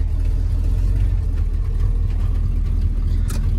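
A 1971 Ford F250 Camper Special pickup engine running right after a cold start, a steady, loud low rumble with an even mechanical whir close by and no talking.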